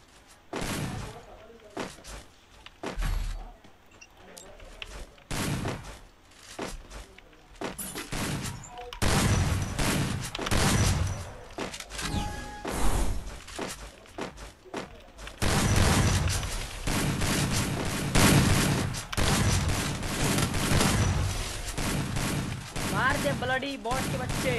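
Gunfire in the Free Fire battle royale game, with scattered single shots and thuds at first, then dense, loud bursts of rapid automatic fire, while a player talks over it.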